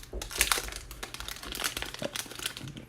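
Crinkling plastic wrapper of a trading card pack torn open by hand, a run of sharp, close crackles and rustles in quick irregular bursts.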